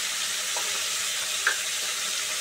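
Pointed gourd fries with turmeric and salt in a pan, giving a soft, even sizzle with a few faint stirring ticks. The frying continues steadily without any talk.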